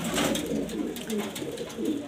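German beauty homer pigeons on a farm in Mirpur, Dhaka, give low, continuous overlapping coos amid a busy background murmur, steady and close for the whole stretch.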